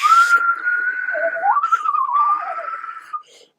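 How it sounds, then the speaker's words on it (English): A wavering, breathy whistle rises and falls in pitch for a few seconds, sounding airy and thin, like air forced through gaps. "You just hear whistling like a tornado's coming."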